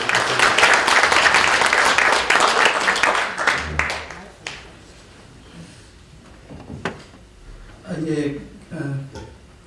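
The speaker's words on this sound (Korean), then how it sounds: "이렇게 우리와 같은 박수를 쳐주셔서" Audience applause at a disability welfare forum fills the first four seconds with dense, close clapping, then dies away into a quiet room where a voice begins speaking.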